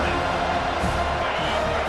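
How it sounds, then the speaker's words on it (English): Stadium crowd roaring in College Football 25 during a defensive stand, a dense continuous wash of many voices sustained steadily throughout, with game commentary speech running over it. "The roar of the crowd trying to fuel this defense to keep them pinned in their own end"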